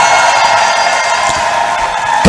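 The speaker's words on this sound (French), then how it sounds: "Applaudissements pour le Seigneur. Félicitations. Congratulations. Poussez le cri." A church congregation shouts and cheers in praise of the Lord, a loud, continuous crowd roar of voices and whoops sustained from start to finish.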